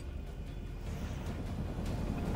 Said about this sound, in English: Hog is humming and raring to go. Let's go. Listen to that engine purr.